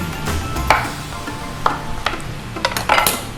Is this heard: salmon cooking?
yes